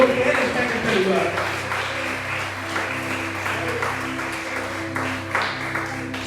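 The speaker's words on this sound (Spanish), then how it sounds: "Dale un fuerte aplauso al Espíritu Santo" Applause from a church congregation rises at the start and carries on steadily beneath a preacher's voice and low musical tones.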